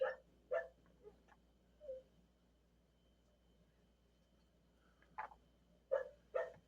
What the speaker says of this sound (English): he wants to start barking